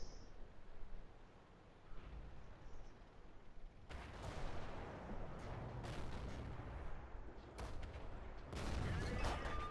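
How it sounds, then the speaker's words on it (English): Tank cannon shots hit a turret in World of Tanks, set in an arctic region, with several sharp booming reports and rumbling impacts rising over a quiet hissing background, the later blasts louder and closer. "Fire a shot into the side of his turret."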